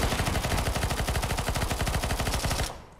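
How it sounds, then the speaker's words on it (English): A Bizon submachine gun fires a long, rapid, continuous burst in a video game, loud and close, before cutting off abruptly near the end. "Shoot him across the map with a Bizon."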